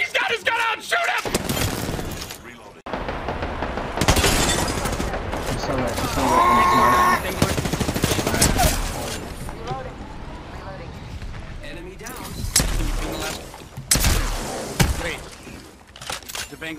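Gunfire in the battle-royale shooter Apex Legends crackles in loud, dense bursts, mixed with in-game announcer lines and excited players talking over the action.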